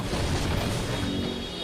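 An excavator smashes through and demolishes a house, making a loud, continuous roar of crashing and crunching debris with heavy low rumble and no voices.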